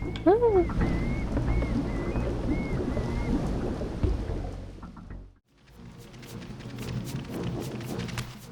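Rolling thunder rumbles through a rainy storm in the video game Soul Reaver 2, a steady low roar with rain hiss that briefly dips, then continues with crackling patter and game sounds.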